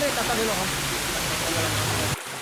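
Balete Falls roars as a steady, dense broadband rush of falling water close at hand, with a voice speaking over it for most of the brief stretch before the sound cuts off abruptly.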